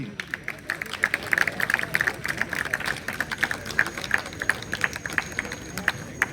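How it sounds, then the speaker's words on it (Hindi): An audience at a park's first anniversary ceremony claps in a loose, uneven patter of individual hand claps close by, with a steady background hum underneath. "तालियां जी"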